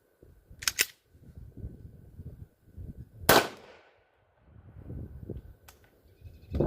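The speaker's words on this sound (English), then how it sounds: "we're just going to shoot into a stack of random pine boards" A 9mm shot fired into a stack of pine boards, a single sharp crack close by, set among quieter shuffling and handling noises.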